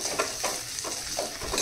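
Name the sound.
stirring and frying chapati noodles with tomato in a pan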